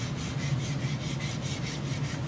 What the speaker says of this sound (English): here we have Mark still filing away on the stainless